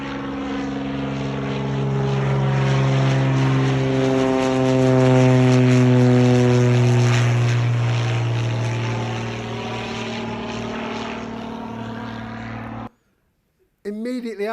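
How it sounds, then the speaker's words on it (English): A noisy single-engine propeller aircraft takes off at a UK skydiving drop zone, a loud, steady drone that swells as it passes close by, then cuts off abruptly near the end. "I took this video of November X-ray taking off"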